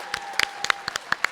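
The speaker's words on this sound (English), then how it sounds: "Please give them a round of applause." Sparse, separate hand claps from a few people in a school audience at a high school Asian American and Pacific Islander celebration, a short burst of about ten distinct claps over a steady background tone.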